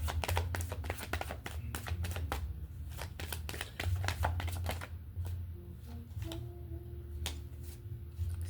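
A deck of tarot cards is shuffled by hand, giving rapid riffling flutters and soft taps near the mic. A quieter stretch of handling follows with a faint hum underneath.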